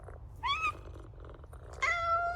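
Cats in the PowerWash Simulator 2 video game give two clear, close meows over a steady low purr, with no talking.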